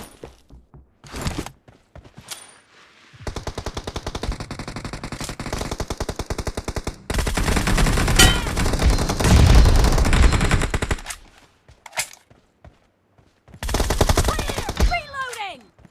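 Video game gunfire: bursts of rapid automatic fire and single shots come in separate loud bursts with short quiet gaps between them, plus a few thuds and what sounds like brief voice callouts.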